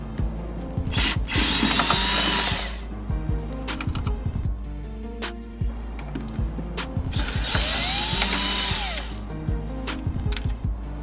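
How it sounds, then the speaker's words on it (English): Ratchet wrench with a 7mm socket clicking as it backs out grille bolts on a 2007-2014 GMC Yukon, close-up bursts of rapid ratcheting separated by short pauses and light metallic handling. "So you need a 7mm socket to remove those."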